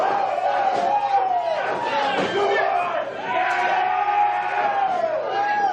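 Wrestling crowd in a John McChesney versus John Rodin bout roaring and shouting continuously, a loud dense wall of massed voices with chanting swells that stays close and unbroken.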